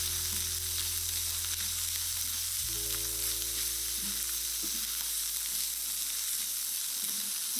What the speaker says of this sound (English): Toast those spices off